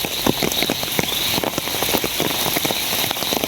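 Heavy rain pours steadily and loudly, a dense hiss of drops pattering on surfaces nearby with no voices.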